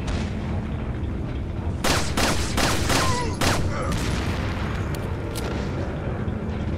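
Pistol shots in Resident Evil 4, several sharp bangs in a quick cluster, loud over a dense, constant game soundscape of rumble and effects.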